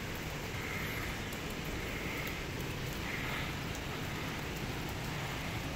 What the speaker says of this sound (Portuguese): Não para de chover.